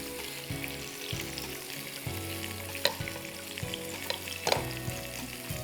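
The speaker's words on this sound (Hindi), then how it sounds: "कैरेमलाइज्ड अनियन चाहिए हमें" Onions frying in a pan to caramelize, with a constant sizzle, occasional stirring scrapes and clinks, and tonal background sound running underneath.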